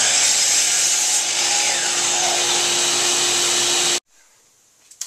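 A power saw cuts wood flooring pieces for a headboard: a loud, steady, close whining cut runs for about four seconds and stops abruptly, followed by near silence and a faint tap.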